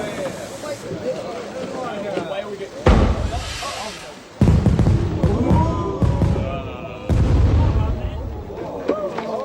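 Fireworks explode in a series of loud, deep booming bursts, three big blasts spaced a couple of seconds apart, with crackling decay between them and people talking over the noise throughout.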